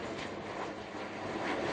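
A fixed-wing airplane passes overhead in the Canary Islands as flights between the islands resume, a steady, broad jet roar heard alone for a short moment.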